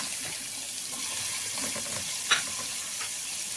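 Chopped onion sautéing in oil and a little ghee in a pan, a steady soft sizzle with stirring scrapes throughout and one brief sharper clatter near the end, moderately close and fairly quiet, no talking.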